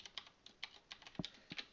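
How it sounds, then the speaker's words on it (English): Fingers tap out a name on a computer keyboard, a quick, faint, irregular patter of close key clicks with one slightly heavier thump, no voices. "We're going to type in a new name for the city."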